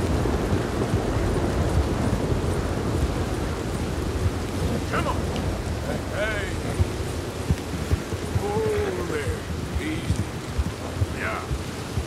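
Thunderstorm in the Western game Red Dead Redemption 2, with steady heavy rain and low rumbling thunder filling the whole scene, plus a few faint higher chirps and calls scattered over the storm.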